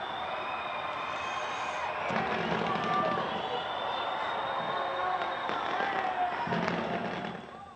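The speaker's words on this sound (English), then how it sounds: "Revelers watched on as brightly colored fireworks were accompanied by a laser light and animation show." New Year fireworks go off over Auckland's Sky Tower in a steady run of crackling bursts and booms. A crowd murmurs faintly in the background, and the sound fades at the end.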